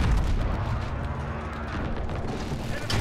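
Gunfire and explosions in a 32 vs 32 Call of Duty Modern Warfare match, loud booming shots and rumbling blasts throughout, with a sharp crack near the end.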